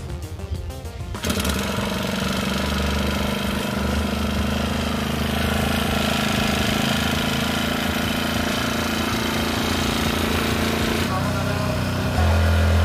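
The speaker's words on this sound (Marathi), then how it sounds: "मित्रांनो, आपला पंप चालू झालेला आहे." An Aspee four-stroke petrol agricultural sprayer pump engine starts up and runs loud and steady close by, with a rapid mechanical chug and a constant pump drone, and someone speaking over it.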